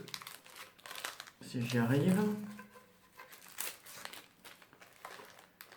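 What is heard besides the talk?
plastic wrapping being removed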